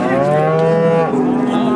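A loud, close cow moo at a livestock market, one long drawn-out low call that shifts pitch partway through.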